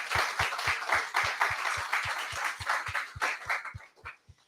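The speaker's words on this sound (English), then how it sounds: "round of applause for our host, Rome" Audience at a product meetup claps for the host, a moderate run of distinct hand claps at a fairly steady pace that thins out and fades toward the end, with no talking.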